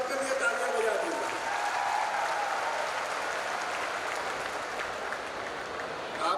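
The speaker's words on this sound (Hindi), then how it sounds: "एक बार अपने सबके लिए तालियां बजा दीजिए।" A large audience at a university convocation with the Uttar Pradesh Chief Minister claps for medal recipients, a steady, fairly distant wash of applause in a big hall, with a voice over the start.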